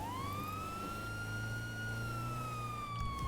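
Emergency vehicle siren in a roleplay video game, a single wailing tone sweeping slowly up and back down, loud and steady over low engine rumble, with no voices.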